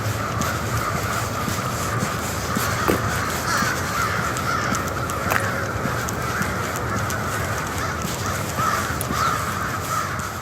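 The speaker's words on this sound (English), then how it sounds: "crows provide the outdoor soundtrack on sunny winter days." Crows caw repeatedly in Rockville, Maryland on a winter day, several calls scattered over a steady outdoor background hum, moderately near and fairly clear.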